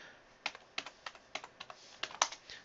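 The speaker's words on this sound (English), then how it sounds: "I like to type it all on one line." Keys clatter on a computer keyboard while a password is typed into a Juniper device configuration, a quick uneven run of about a dozen crisp close taps in a quiet room with no voices.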